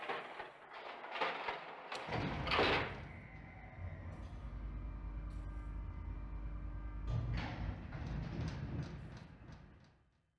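An elevator in a video game: a few mechanical clicks, then a sliding door whooshes shut, followed by a steady low rumbling hum as the car travels, ending in another clattering door movement as the sound fades out.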